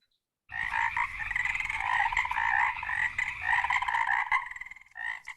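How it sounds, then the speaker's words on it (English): A loud, continuous chorus of croaking frogs rings out in dense, rapid pulses that run steadily for several seconds before breaking into a few final bursts. "Bardea, frogs."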